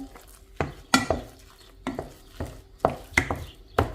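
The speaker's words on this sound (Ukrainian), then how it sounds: "Файно все перемішую лишку." A spoon scrapes around a bowl in brisk, regular strokes, stirring a potato mixture with eggs, salt, milk and a knob of butter for a traditional Polissia potato-and-cheese dish; the sound is close and clear with no talk.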